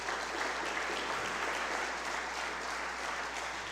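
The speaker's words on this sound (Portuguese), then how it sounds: "Pode aplaudir ao Senhor." A church congregation at the close of a service applauds in praise, a thick, continuous wash of clapping that fills the room evenly and stays loud with no voices above it.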